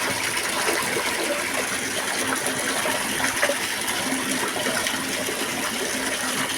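Running water rinsing meat for Eid cooking, a steady gushing stream splashing continuously as if from a tap into a basin, moderately loud and alone without talk.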